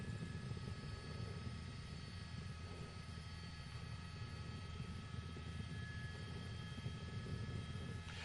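A police helicopter hovers over a car chase through the Van Nuys area, its steady rotor and engine drone filling the clip at a constant level, with no voices heard.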